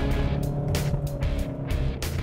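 A Skoda Octavia diesel engine heard from inside the car while driving, a steady low rumbling drone with faint road noise and a few brief swells in level.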